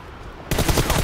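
Gunfire in the battle royale game BGMI: after a quiet half second, a sudden, loud, close burst of rapid automatic shots rattles on in an even rhythm to the end.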